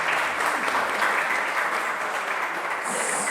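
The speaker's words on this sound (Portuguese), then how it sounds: "Uma salva de palmas para nossa mãe." A congregation gives a round of applause during a religious program, sustained even clapping that holds steady for a few seconds with no voices over it.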